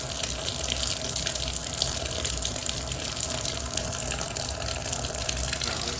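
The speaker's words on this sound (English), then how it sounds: "the water coming out of the shower is really cold" Water pours steadily from a shower head fed through a failed thermostatic mixing valve that leaves the flow cold, a continuous, even rushing hiss with no voices.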